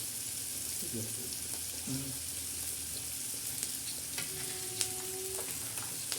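Tadka for ridge gourd curry with chana dal sizzles steadily in a hot pan, a dense, close frying hiss broken by light clinks and scrapes of stirring.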